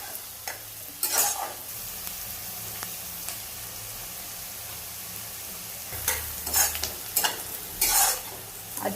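Chopped onion and finely cut green chilies frying and being stirred in a pan, with a low steady sizzle broken by several louder scraping stir bursts near the start and again toward the end.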